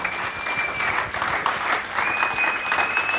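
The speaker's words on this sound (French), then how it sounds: "Quand elle s'approche, on acclame fortement le Seigneur." A church congregation applauds continuously and loudly at an evangelical service, a dense wash of clapping with a sustained high whistling tone running over it.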